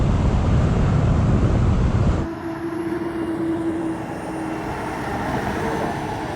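A 44-ton Mercedes truck in a drag race roars under acceleration, then the engine note drops sharply during a slow gear change and picks up again as a steadier drone with a rising whine, loud and close.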